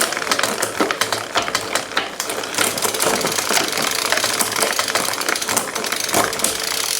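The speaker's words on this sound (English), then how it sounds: "Very noisy on this cassette." A Shimano GRX gravel bike drivetrain being cranked on a noisy cassette, giving a rapid, continuous mechanical ticking and whirring chatter, loud and close, with some uneven clicks early on.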